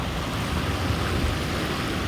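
Muddy water flows into a full village dam, a steady broad rushing roar close by with wind noise on the microphone and no talking.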